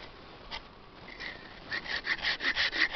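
A Chinese garden hand saw cuts into wood from below. The rasping strokes start faint and sparse, then settle into a steady, quickening rhythm of louder back-and-forth pulls, close by with no voices.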